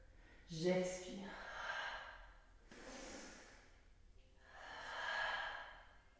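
A person breathes deeply during a yoga golf-swing exercise, with slow audible inhales and exhales, close and clear, repeating in a calm rhythm.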